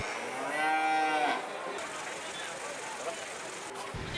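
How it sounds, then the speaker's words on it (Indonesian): Cattle at a livestock market in Semarang moo loudly once, a long close call, followed by a background murmur of the market with voices and vehicle noise. "Sapi-sapi asal luar daerah tidak begitu saja diturunkan dari mobil"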